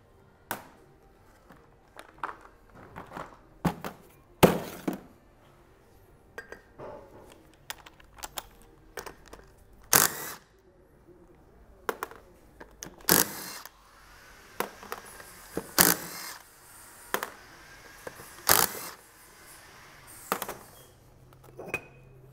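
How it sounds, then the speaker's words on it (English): Four bolts are removed from the brake rotor drive hub of a Mini, heard as sharp, irregular tool clicks and ratcheting snaps spread over several seconds, close up and moderately quiet, with no talking. "there's just four bolts right here. So we'll zap those out and then we can take the drive hub off of the rotor."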